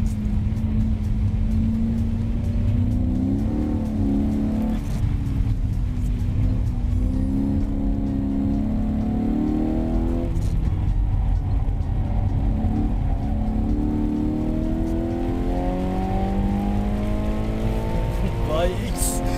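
A VW Polo GTI with a DSG gearbox revs hard toward 7000 rpm, its engine note climbing and falling in repeated sweeps beneath a steady loud drone, with a voice talking over parts of it.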